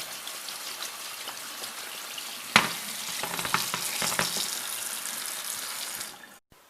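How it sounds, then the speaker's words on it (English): Salted cucumbers being rinsed under running water through a colander, a steady splashing hiss with a sharper burst midway, then cutting off near the end. "you want to go ahead and rinse the cukes after they've been salted for 20 minutes or so through a colander"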